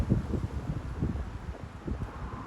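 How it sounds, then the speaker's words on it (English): Wind gusts buffet the microphone in low, uneven rumbling surges outside St Matthew's Church, with a faint rustle in the background and no talking. "Although it's a windy day."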